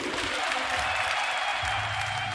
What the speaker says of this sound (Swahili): Makofi